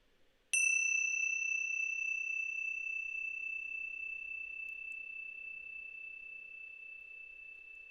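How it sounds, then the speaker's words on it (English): A single meditation bell is struck once, near and clear, its pure ringing tone sustaining and slowly fading over several seconds in an otherwise quiet room. "through the sound of the bell"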